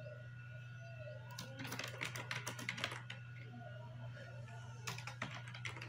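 C++ code is being typed on a computer keyboard in two short, quiet bursts of rapid key clicks, with a pause between them, over a low steady hum.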